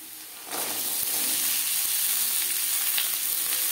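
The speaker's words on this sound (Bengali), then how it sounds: "ফোড়নের সাথে আলু বেশ ভালো করে মিক্স করে দেবো।" Potatoes hit hot mustard oil tempered with nigella seeds, setting off a sudden loud sizzle that settles into a steady close hiss with a few light stirring taps.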